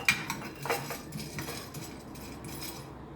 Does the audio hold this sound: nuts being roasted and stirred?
yes